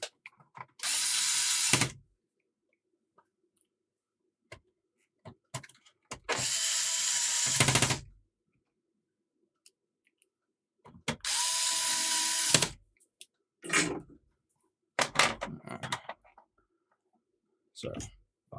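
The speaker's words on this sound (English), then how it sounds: "Actually, I'll put a few screws on the front." A power screwdriver drives screws into the case of a Sega SC-3000 home computer in three loud, close bursts of whirring about two seconds each. Ratchety clicks and handling knocks fall between the bursts, and there is some talking.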